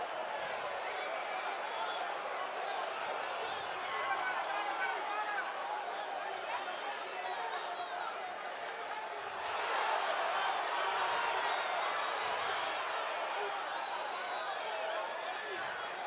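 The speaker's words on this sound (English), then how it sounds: "the crowd is going bananas here in Fajardo" A boxing crowd roars and chatters at a fight in Fajardo, Puerto Rico, a dense, steady wall of cheering that swells louder about two-thirds of the way through, with commentary voices mixed into the din.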